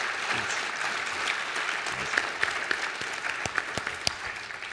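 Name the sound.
audience applause for keynote speakers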